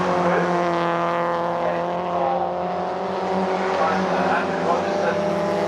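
MG race cars lap Oulton Park during an MGOC Championship race, engines droning loudly and continuously with rising harmonic tones as the cars pass close by, a commentator talking over the racket.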